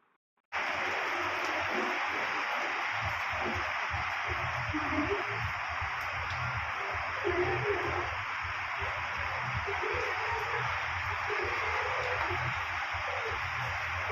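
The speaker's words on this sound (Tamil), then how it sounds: "மழை செம்ம மழை பெய்யுது." Steady, heavy rain pours down in a dense, constant hiss that starts abruptly and holds loud and unbroken throughout, with faint low rumbles beneath.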